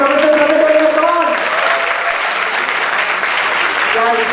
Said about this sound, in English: Let's give a big round of applause to all the professors.